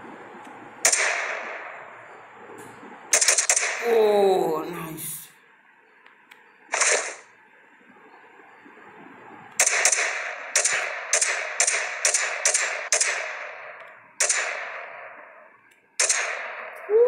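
Sharp snapping shots from a homemade toy gun ring out one after another, some spaced apart and then a quick string of cracks, fairly close, with a brief voice between them.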